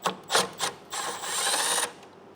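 A driver backs T30 Torx bolts out of an E39 M5, giving a few short scraping clicks followed by a steady, close rasping whir lasting about a second.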